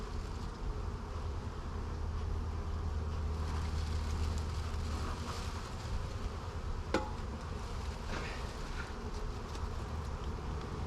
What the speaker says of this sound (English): is this causing the bees stress?